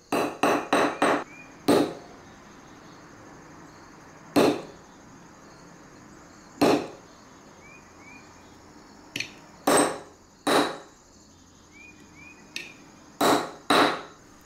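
A hammer strikes a center punch to stamp a metal zodiac disc for a necklace, giving sharp, separate taps at irregular intervals, some in quick bursts, close by with quiet gaps between them.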